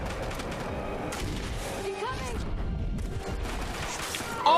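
A grenade blast and gunfire in a TV show's firefight: a dense stretch of rapid shots and booms, loud and continuous, with a louder hit right at the end.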